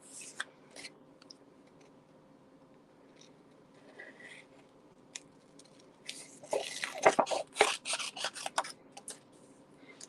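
Paper being cut with scissors for a handmade card: quiet rustling and handling at first, then a cluster of close, crisp snipping cuts near the end, with no talking.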